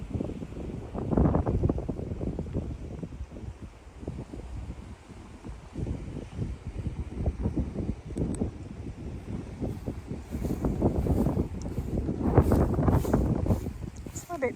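Steady gusting wind at an outdoor cemetery at night, buffeting the microphone with continuous low rumbling noise that swells and eases, with faint rustling underneath.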